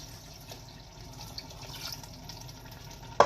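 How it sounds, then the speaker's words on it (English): About four cups of beef stock are poured into a pot for beef bourguignon, a soft, steady liquid pour that stays faint throughout and ends with a sharp knock. "I got about 4 cups of beef stock here. We're going to add that to the pot"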